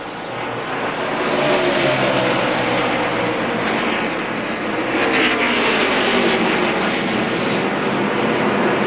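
NASCAR Busch Series race cars at the 2001 Outback Steakhouse 200 roar past on track, a loud continuous engine drone that swells and sustains throughout.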